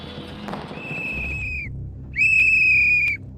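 Protesters blowing whistles: two shrill, sustained whistle blasts, the second louder and longer, over a low crowd rumble and background noise.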